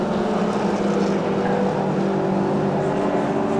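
Race cars roar around the Rockingham circuit in a 750 Motor Club event, a loud, continuous engine drone with no break, close and dense across the whole stretch.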